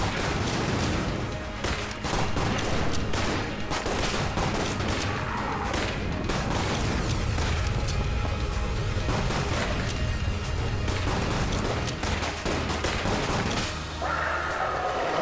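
Rapid bursts of gunfire from the dungeon-crawling shooter game Enter the Gungeon, dense and continuous shots with crashes and mechanical clatter filling the clip, loud and up close with no voice over them.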